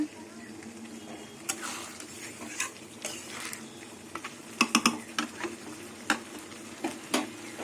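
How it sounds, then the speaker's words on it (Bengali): Goat meat coated in sour yogurt stir-fried in oil in a pan for a potato curry, with scattered scraping and stirring clicks over a low, steady sizzle, close and moderately quiet. "এবার যতক্ষণ না তেল ছাড়বে ততক্ষণ কষিয়ে দেবো কষাতে থাকবো"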